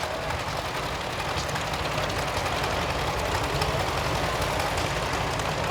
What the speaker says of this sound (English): 407 engine that's naturally breathing, no turbo on it, but it's a big husky tractor